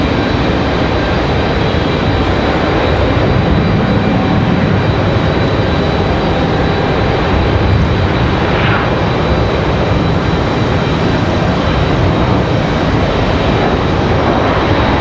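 Jet airliners roll and spool up on the busy runways at Raleigh-Durham International Airport, giving a loud, steady, broad roar that carries without a break, with no talk over it.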